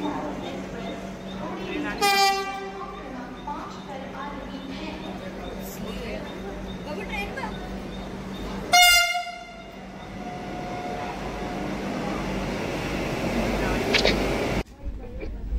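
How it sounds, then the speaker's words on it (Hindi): Vande Bharat Express train pulling into Thane station, with two loud horn blasts a few seconds apart over steady rolling rail noise and station ambience, and people talking in the background. "फाइनली हमारी वंदे भारत ट्रेन आ चुकी है थाना स्टेशन पे।"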